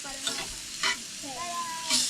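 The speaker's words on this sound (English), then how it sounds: "I'm just throwing some butter on these steaks" Steaks frying in butter in a pan give a soft, steady sizzle with a few brief bright hisses and spatters, close by and moderately quiet, with no talk.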